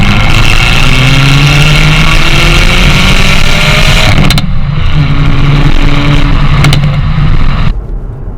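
Hyundai i30 Fastback N engine revving hard with throttle blips, loud and close, the droning exhaust note rising, then cut by sharp cracking bursts as the revs drop.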